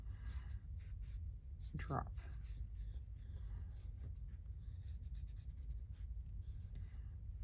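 A pen scratches across a surface as a shape is drawn by hand for a homemade adhesive stamp, with soft strokes under close, quiet talking.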